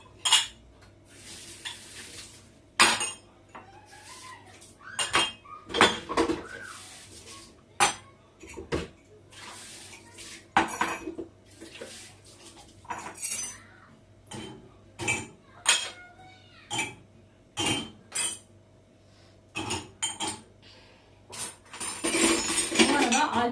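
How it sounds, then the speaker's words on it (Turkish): Dishes and cutlery clink and clatter repeatedly as they are set down and stacked, sharp knocks at irregular intervals over a steady low hum. "Şuraya alayım bulaşıkları da yerleştireyim"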